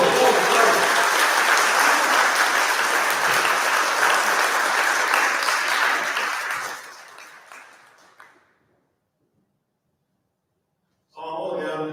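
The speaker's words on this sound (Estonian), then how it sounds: "Aplaus!" Loud, full applause from the crowd at a school ceremony honouring students, holding steady before tapering off into silence, then a brief burst of sound returns at the very end.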